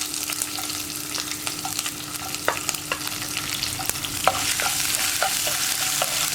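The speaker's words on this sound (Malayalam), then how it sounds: "നമുക്കിതിലേക്ക് കട്ട് ചെയ്ത് വെച്ചിരിക്കുന്ന ഇഞ്ചിയും പച്ചമുളകും ആദ്യം ചേർത്ത് കൊടുക്കാം." Chopped ginger and green chilli fry in hot oil while being stirred, with a steady close sizzle and scattered clicks of the spoon against the pan throughout.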